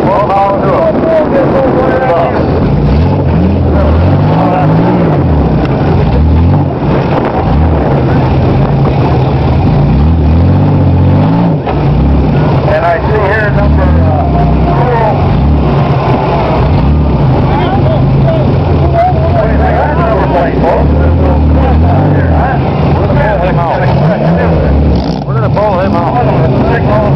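A welded compact car's engine drones steadily from inside the cabin while driving down the road, a continuous loud rumble with shifting tones as revs rise and fall, and a voice speaking over it throughout.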